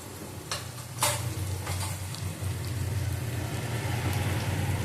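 Garlic paste, turmeric, Kashmiri chili powder and cumin powder frying in oil in a pan while being stirred for chicken-stuffed pointed gourd dolma, a close, steady sizzle with a few scraping stir strokes early on and no talk.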